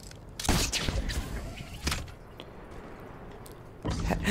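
Gunfire in Fortnite near Loot Lake: a few separate loud shots with booming tails, spaced roughly a second or more apart, the last one arriving near the end, with a voice talking at points.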